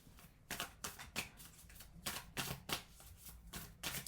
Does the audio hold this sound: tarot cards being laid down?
yes